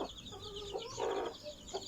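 A mother hen and new chicks on a farm cluck and murmur close by, a few short clucks and soft throaty calls over quiet background, with no talk.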